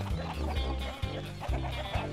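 Video game chickens cluck steadily in a busy, layered chorus, with short repeated bursts about every half second.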